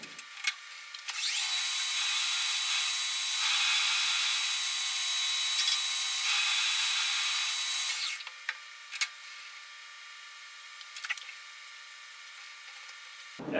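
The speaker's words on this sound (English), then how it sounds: "Let's face this off, get it turned down to half inch, and let's get it threaded." A metal lathe faces and turns down washer stock, giving a steady, high-pitched cutting hiss for about seven seconds. Brief tool clicks and taps follow in a quiet shop.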